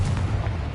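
A Confringo blasting spell detonates in Hogwarts Legacy, a deep booming explosion with a heavy low-end rumble that fills the short moment without pause.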